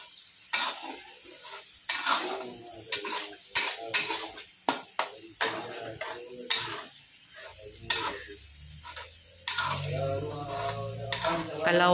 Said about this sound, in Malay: Kita masak, kita tumis guys sampai pecah minyak ya guys.